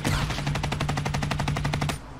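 Automatic gunfire from a weapon in Call of Duty Black Ops 3 team deathmatch on the Aquarium map, a loud, rapid burst of about twenty evenly spaced shots that stops abruptly near the end.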